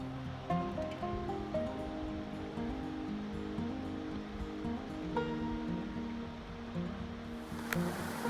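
River water rushes steadily through a gorge in Georgia below a suspension bridge, a continuous broad wash of flow heard from above, with a low tonal hum running beneath it.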